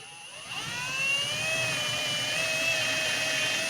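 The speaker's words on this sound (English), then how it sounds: "So when I drill down, I'm going to go down into thin air." A power drill whirs up to speed and holds a steady, high-pitched whine as it bores through wood, fairly close and loud.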